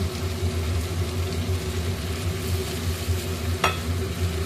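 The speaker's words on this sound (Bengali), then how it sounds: "দিয়ে ভালো করে কষিয়ে নেব" Turmeric, chilli, coriander and cumin powders with salt fry in a pan for a Bihari-style egg curry, a steady low sizzle and stirring with one sharp scrape near the end, no talk.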